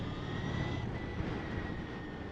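Victory Empulse TT electric motorcycle riding, a steady broadband rush with a thin sustained whine layered over it, continuous and unbroken with no voices.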